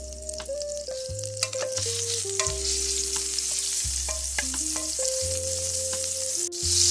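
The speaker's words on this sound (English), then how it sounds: "Next, I'm going to add in a tablespoon of butter. And we're going to let that melt." Butter melting into hot olive oil in a pan gives a steady, close sizzle that holds for the whole stretch, with a soft melody playing underneath and no voices.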